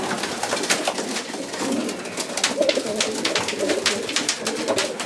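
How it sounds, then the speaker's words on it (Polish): A racing pigeon coos close by in repeated soft, throaty rolls, with fluttering and rustling in the background and no talking. "Tu jest na przykład gołąb."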